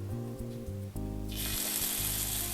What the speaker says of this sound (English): This is supposed to sizzle.